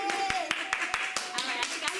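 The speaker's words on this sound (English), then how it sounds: "I think I hear more than one person clapping this time." Several people applaud together in a room, a steady run of sharp, evenly spaced claps, fairly close and moderately loud.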